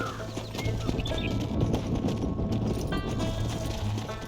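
Horse hooves clip-clop steadily in Red Dead Redemption, a continuous rhythmic trot close by over a dense outdoor ambience with a low hum, no voices heard.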